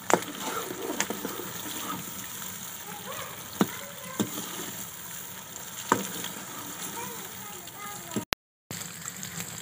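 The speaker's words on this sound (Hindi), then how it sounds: "अब थोड़ी देर ब्राउन करेंगे।" Chicken browns in a hot pan with continuous crackling sizzle, punctuated by occasional clinks and scrapes of a utensil stirring, close by, with a short cut near the end.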